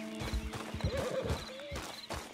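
A horse in Red Dead Redemption 2 lets out a wavering, close neigh in the middle, framed by soft hoof clops and faint game ambience.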